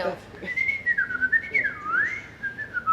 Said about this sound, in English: maybe like a hidden talent is I'm a pretty good whistler